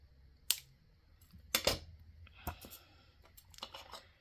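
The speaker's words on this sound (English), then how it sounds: "So I'm going to cut that one right there" Scissors snip a few times, sharp close clicks spaced about a second apart, with faint handling rustle in between in a quiet room.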